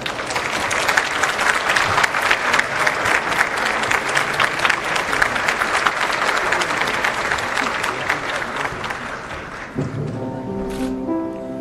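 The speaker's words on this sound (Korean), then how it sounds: "아버님을 여러분의 뜨거운 박수로 모시고요" Wedding guests at a ceremony clap warmly and steadily to welcome the bride's father to the front. Near the end the clapping gives way to music and a voice.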